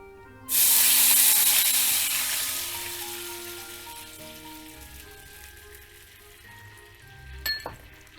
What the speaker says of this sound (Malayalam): അതിലേക്ക് ഒരു കപ്പ് വെള്ളം ഒഴിക്കുക